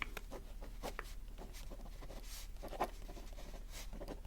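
Pen scratching across paper in short strokes and pauses, soft and very close in a quiet ASMR setting with a low steady hum underneath.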